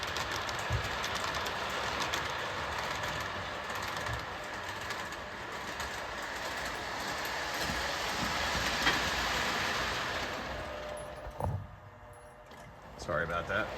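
An O gauge Williams by Bachmann Virginian FM Trainmaster model locomotive pulling box cars, a quiet, steady rolling rumble with light wheel clicking that eases off near the end.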